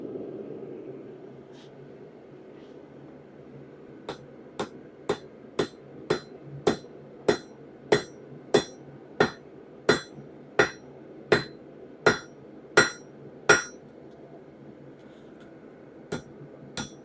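A hammer forges a railroad spike into a dagger on an anvil. About seventeen evenly paced, ringing metallic blows come close and loud, then pause, followed by two more strikes near the end.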